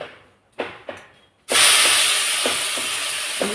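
A few soft kitchen taps come first, then salted chopped banana stem drops into hot oil and bursts into a loud, sustained sizzle with faint clinks underneath.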